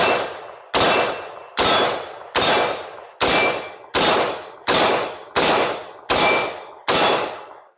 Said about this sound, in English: My goal is to get through this ammo no matter what, so it's going to get shot.